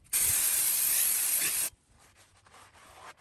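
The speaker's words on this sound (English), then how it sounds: "he's gonna clean up both sides of the rotor with some brake cleaner and a clean rag" Brake cleaner sprayed from an aerosol can onto a brake rotor on a Toyota/Lexus solid front axle, heard as one loud, steady hiss lasting about a second and a half before cutting off to quiet rustling.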